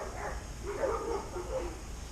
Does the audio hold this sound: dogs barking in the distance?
yes